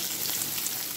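Whole cumin seeds and onion sizzle in hot oil in a pan, a dense, steady crackling hiss that stays close and unbroken, with no voices.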